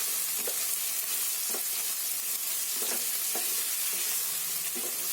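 Peas and onions sizzle steadily in hot oil while being stir-fried for a cabbage masala sabzi, with a continuous crackle and occasional scrapes of a spoon against the pan, no voices.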